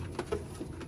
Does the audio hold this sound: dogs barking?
no